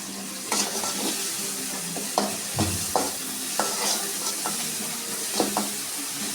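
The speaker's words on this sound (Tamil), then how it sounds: "வெங்காயம் வணங்குறதுக்காக லைட்டாக வந்து சால்ட்டு போட்டுக்கிறேன்." Onions sautéing in a pan for a macaroni pasta dish, a constant soft sizzle broken by a series of sharp spatula scrapes and taps at irregular intervals, close with no talking.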